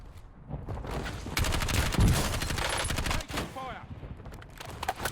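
Kilo 141 assault rifle firing in Warzone, sustained rapid automatic bursts with a dense, loud crackle that briefly breaks off and resumes, heard up close with no talking.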